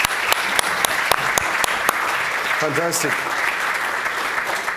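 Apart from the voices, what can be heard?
audience applause for the panel speakers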